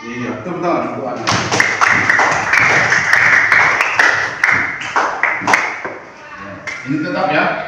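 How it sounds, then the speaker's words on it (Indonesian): A classroom group claps for a student, a dense burst of hand claps starting after a moment and fading near the end, with voices talking over it. "Iya, tepuk tangan untuk Anas."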